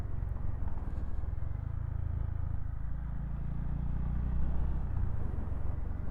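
Honda GB350S motorcycle ridden in third gear, a steady low single-cylinder thrum with road and wind rumble, holding fairly constant and swelling slightly near the end.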